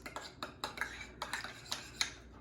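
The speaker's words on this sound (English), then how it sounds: "Give this a quick stir." A utensil stirs a Dijonaise sauce of mayonnaise, Dijon mustard and chopped parsley in a bowl, giving about a dozen quick, light clinks and scrapes in an uneven rhythm, close and fairly quiet.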